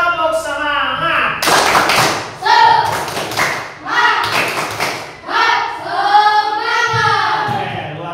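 Students in a classroom do a rhythmic cheer clap, loud patterned bursts of clapping and thumping that alternate with group chanting voices.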